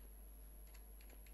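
Typing on a computer keyboard while writing a query in Microsoft Access, a few soft, closely spaced key taps over a steady low hum, no talking.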